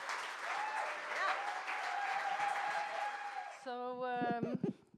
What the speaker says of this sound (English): let's give a huge round of applause for Betsy M.